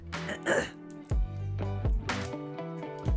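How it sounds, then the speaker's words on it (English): A sick streamer coughs and clears the throat several times up close, short harsh bursts separated by brief pauses. "My cough's getting worse."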